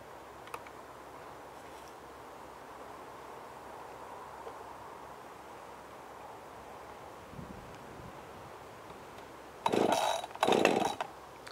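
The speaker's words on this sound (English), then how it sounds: "Now the machine's fired" A chainsaw is pull-started with the choke set and primed. A quiet lull comes first, then two loud, brief bursts as the engine catches and fires up close by. No voices are heard.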